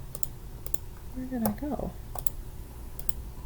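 Typing on a computer keyboard: soft, fast clicking keystrokes in short bursts, steady and close, with a brief spoken murmur partway through.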